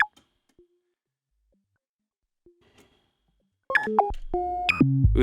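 A WMD Javelin synth voice with only the filter envelope shaping it, no VCA, enters after a long near-silence and rings out as a few sustained, stepping tonal notes, fairly loud and alone.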